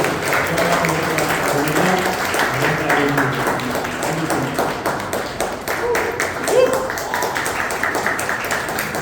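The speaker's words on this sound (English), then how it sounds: "So huge round of applause to all the veterans." Applause for veterans at a Toastmasters anniversary meeting, steady clapping from a modest audience with voices talking underneath throughout.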